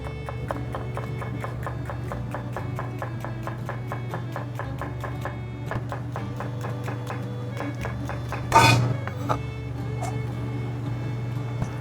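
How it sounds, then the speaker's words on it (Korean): A knife slices onion across the grain on a cutting board while prepping katsuo tataki, making a steady run of quick, crisp taps close by, with one louder knock partway through over a faint constant background hum. "이 요리에는 양파 슬라이스를 결의 수직 방향으로 썰어주는 게 조금 더 맛있는 것 같더라고요"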